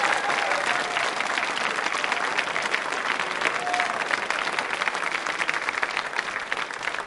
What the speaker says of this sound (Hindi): बहरहाल तालियां तो बजाइए उनके लिए।